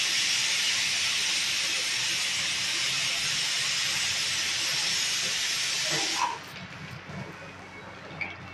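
Mustard and cumin seeds sizzle in hot oil for a Telangana-style fry, a steady, close, even hiss that runs for about six seconds and then cuts off, leaving quiet kitchen rustles.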